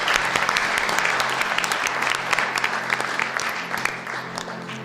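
A church congregation claps together at an Easter adoration service, dense steady applause from many hands filling the room for about five seconds with a faint murmur underneath.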